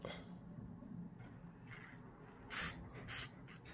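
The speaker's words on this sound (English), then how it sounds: "So I spray a little bit underneath here." Two short, sharp hissing bursts of isopropanol from a spray bottle during a Samsung A71 phone screen repair, close by, following a stretch of quiet background murmur.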